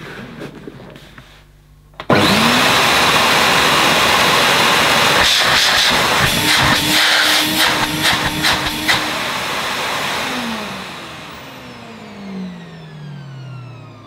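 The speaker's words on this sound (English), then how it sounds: "Let's see how rough this motor sounds." A Hoover Vogue SC036 1100 Autoflex cylinder vacuum cleaner motor switches on with a sharp start and runs loud and steady, a broad whooshing roar with slight wavering pitch, then begins to wind down near the end.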